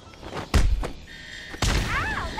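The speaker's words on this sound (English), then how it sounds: "Kick him." A kick landing on an enemy in Batman: Arkham Asylum gives two loud, close thuds about a second apart, each a sharp broadband impact with a brief tail, and a short bright whistling game effect follows the second hit.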